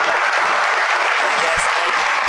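Continuous crowd applause at a radio broadcast event, a dense, even wash of clapping that runs unbroken and fairly loud throughout, with a faint voice briefly underneath.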